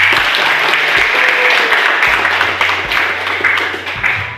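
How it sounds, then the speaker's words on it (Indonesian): Students in a classroom applaud together, a steady wash of clapping from a group that holds for several seconds, with a faint hum underneath. "Tepuk tangan untuk kita semua"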